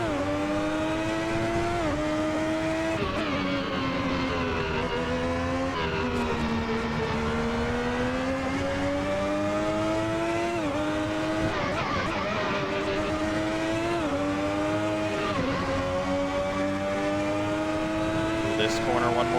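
Ferrari 641 Formula One car engine in the Assetto Corsa racing game, a continuous loud high-revving roar rising and falling through gear changes and braking over about twenty seconds, with someone talking over it.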